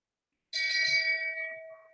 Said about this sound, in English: without further ado, one more shame bell.